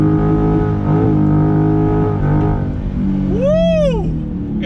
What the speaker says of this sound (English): All right, here goes a little burnout.